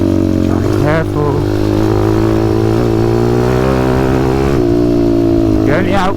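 A pit bike fitted with a WPB 190 Beast engine and a quarter-turn quick-action throttle, on an easy test ride, holds a loud, steady mid-pitched drone with sharp revving surges near the start and again at the end.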